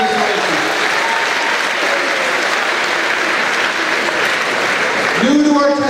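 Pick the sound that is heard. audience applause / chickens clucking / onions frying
audience applause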